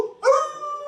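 A man imitates a dog with his voice, giving one short howling bark that rises and then holds in a steady, close tone.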